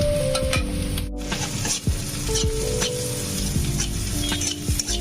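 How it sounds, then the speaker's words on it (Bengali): Ground green chili paste frying and sizzling in a pan with onions over medium-low flame, a steady close hiss broken by the scrape of stirring every second or so. "নিয়ে এটাকে ভেজে নেব কাঁচা লঙ্কাটার উপর একটুখানি স্পট আসা পর্যন্ত।"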